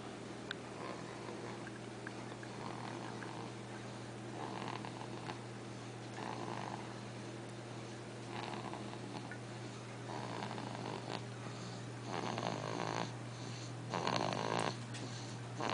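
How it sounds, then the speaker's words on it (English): A man sleeps, snoring softly and steadily. Breathy, rasping snores rise and fall about every two seconds over a low constant hum in a quiet room. "He's snoring."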